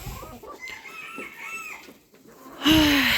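Hens cluck and murmur softly, with a rooster bursting into a loud crow near the end.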